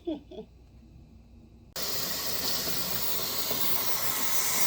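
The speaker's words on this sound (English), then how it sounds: "when the canner starts releasing its steam or whatever" A T-Fal 22-quart pressure canner processing a batch of potatoes begins venting, cutting off brief faint talk with a sudden loud, steady hiss of escaping steam that holds strong to the end.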